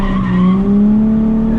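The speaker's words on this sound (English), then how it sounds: "I'm just going to put it in first gear, just let off like I normally would. And then all you have to do is just give it a little gas." Car engine revving in first gear while drifting, a loud sustained engine tone rising slightly in pitch with tire squeal and skidding noise over the short burst.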